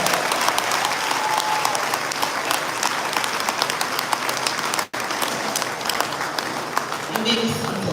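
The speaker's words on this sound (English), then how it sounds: "give them a big round of applause" An audience at a high school graduation ceremony applauds with sustained, dense clapping that stays loud and even throughout, thinning slightly near the end.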